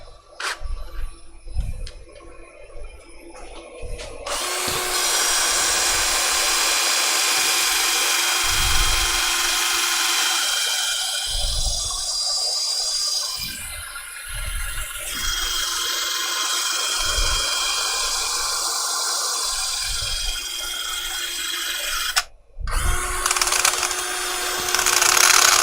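Steady whirring hum of a wood lathe as a turned wooden piece is sanded, running continuously for most of the span with rhythmic low thumps, briefly cutting out near the end before resuming.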